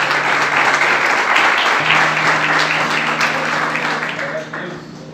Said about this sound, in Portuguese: Bem fortes palmas, amém, queridos?